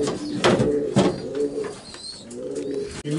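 Racing pigeons coo in low, throaty rolling calls, several overlapping and close by, with faint higher chirps from other birds.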